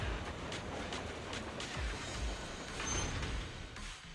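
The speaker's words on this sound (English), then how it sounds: "Do you know why that train moved just now?" A moving train in the video game Zenless Zone Zero gives a low, steady rumble with faint rattling clatter, continuous and moderately quiet with no talk.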